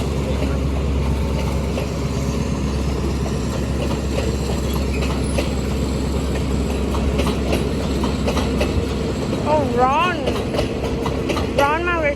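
Train number 207 at Bang Sue Junction railway station, a loud steady rumble of rolling wagons with rhythmic wheel clatter and squealing metal near the end, while people talk nearby.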